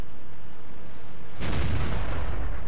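A tracking shot fired from an ARL-44 tank in World of Tanks, heard as a single loud cannon boom that cuts in sharply partway through and decays with a rumbling tail after quiet.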